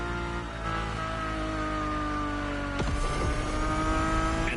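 A race car engine in the video game Motorfest drones at high pitch, rising steadily, then a sharp shift drops the tone before it climbs again.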